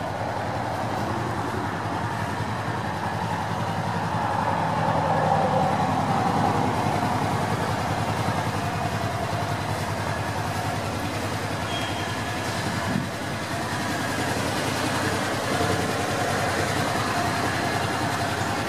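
A 2014 Kawasaki Teryx4 KRT800C utility vehicle idles steadily for the whole stretch, a constant low engine hum that never changes pace, with no talk over it.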